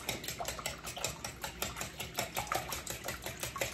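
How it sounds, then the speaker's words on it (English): A whisk beats a custard mixture with a pinch of kosher salt for croissant French toast, a fast steady rhythmic clatter of wires against a bowl, close and continuous with no talking. "Let's give that a whisk."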